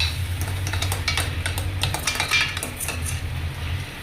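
A spoon clinks and scrapes steadily against a pot or bowl while spices, garam masala and salt are mixed into tomato chutney, with a continuous low background hum and no talking.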